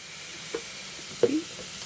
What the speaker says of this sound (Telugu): ఇలా వేసి ఒక 2 నిమిషాలు నూనెలో మగ్గాలి